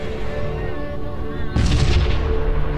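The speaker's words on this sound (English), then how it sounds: "Another volley of missiles from him." A volley of missiles fires in the space battle game Sunrider: First Arrival, bursting in abruptly as a loud, booming rush of blasts over a sustained tonal background hum.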